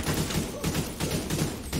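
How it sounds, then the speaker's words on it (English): Rapid bursts of SMG fire in a shooter video game, a dense rattling volley of shots repeating quickly and loudly throughout the short stretch. "I have an SMG."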